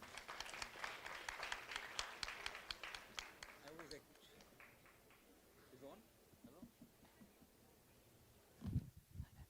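Conference audience applauds to welcome a speaker at an international health conference, a dense burst of clapping that fades after about four seconds, followed by talk and a brief thump near the end.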